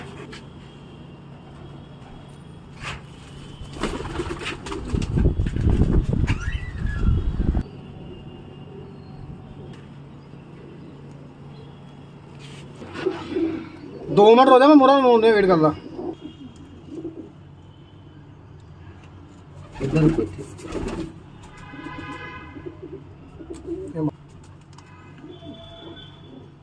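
Pigeons coo in bursts at a pigeon-flying shield contest, with a loud rush of movement early on and brief sharp calls later, while people talk intermittently.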